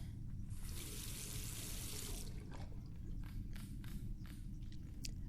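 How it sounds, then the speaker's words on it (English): Water rinses a photographic plate in The Last Door game, a continuous splashing, running-tap rush with a brighter burst early on, over a low steady rumble. "All that remains is to rinse the plate."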